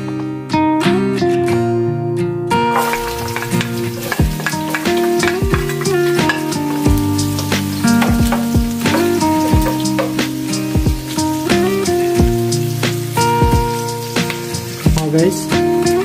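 Fresh garlic frying in about two tablespoons of oil in a pan, a steady close sizzle running throughout, with utensil scrapes and stirring knocks over the top; music plays along underneath.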